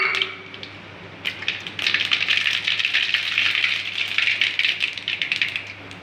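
Rapid popping and crackling of mustard seeds spread across a hot pan, quiet at first and then dense and steady, close by and without speech.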